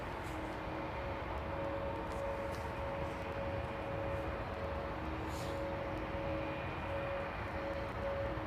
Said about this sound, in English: I can quite clearly hear the engine sounds.